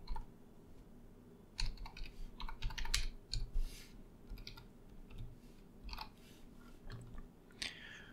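Typing on a computer keyboard while coding: bursts of quick, close key clicks and clacks with short pauses between runs, no talking.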